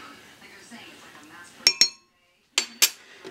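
Sharp metallic clinks of a measuring spoon while baking powder goes into a chocolate lava cake mix: two quick pairs of bright taps close to the mic, set apart by a short pause, after soft talk.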